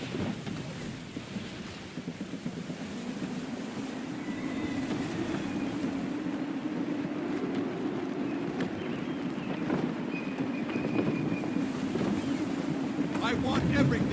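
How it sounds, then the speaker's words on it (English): Gusty wind rumbles around a sailing ship at sea in Assassin's Creed III, a steady low roaring wash of wind and hull with creaks and faint tonal cues, continuous and fairly loud. "Gusty winds can be difficult to manage."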